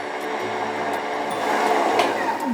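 A food processor whirs steadily as it blends flour, pieces of cold butter and a pinch of salt into a fine crumb for dough, a loud continuous motor drone with a slight rise partway through.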